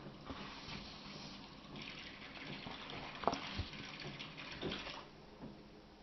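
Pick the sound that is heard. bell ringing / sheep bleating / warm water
warm water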